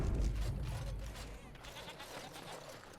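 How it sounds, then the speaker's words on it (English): Goats bleating on a farm in the video game Dragon Age: Origins, a loud low bleat at the start fading into softer background ambience. "Got some scary goats here."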